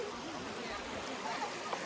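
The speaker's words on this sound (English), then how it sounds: "Got the streams of water" Streams of water rush at a hidden waterfall in rural Thailand, a steady broadband splashing roar close by, with faint voices in the background.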